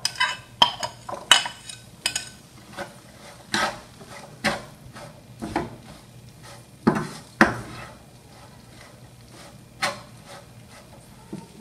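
Chile and onion being stirred in a pan for machaca, with repeated scraping and clinking of a utensil against the pan in irregular bursts, faint sizzling underneath, close and moderately quiet, no talk.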